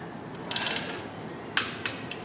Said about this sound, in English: Our torque spec for today is 20 foot-pounds, and we're going to go ahead and tighten that